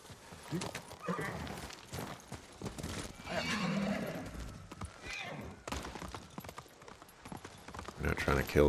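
Horse neighing and clip-clop hooves in the Ghost of Tsushima video game, a whinny rising over steady hoofbeats while someone talks over much of it.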